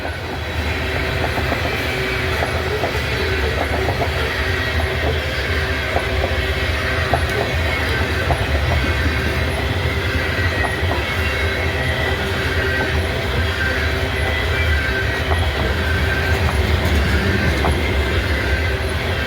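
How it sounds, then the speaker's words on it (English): A fully loaded coal train out of Pennsylvania, led by a Western Maryland SD-70 locomotive, rolls past close by with a loud, continuous rumble of wagons, rhythmic wheel clatter and occasional squeal, sustained throughout. "That's a fully loaded coal train that comes out of Pennsylvania"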